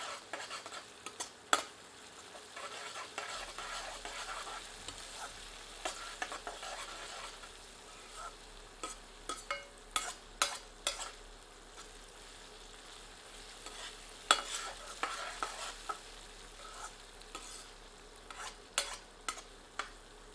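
Garlic-ginger paste and onion frying in a pan for Indian bean and potato curry, with steady low sizzling and repeated spoon scrapes and stirs tapping the pan throughout, moderately close.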